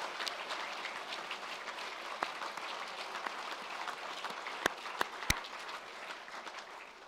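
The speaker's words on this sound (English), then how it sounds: "why don't you just one more time give each other and yourselves a big round of applause" Steady applause from a graduating audience at a Birmingham Business School ceremony, dense even clapping held at moderate loudness throughout, with a few sharper isolated claps standing out near the end.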